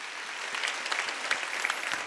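Congregation clapping during a Sunday worship service at a Korean church, a dense, steady wash of many hands filling the room at even loudness without pause.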